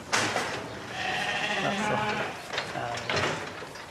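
Sheep bleat close by in a few wavering calls over a rustling farmyard background.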